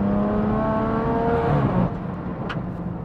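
An 880bhp BMW M140i engine revs hard under load while driving, its steady droning roar filling the cabin up close and dropping off slightly toward the end.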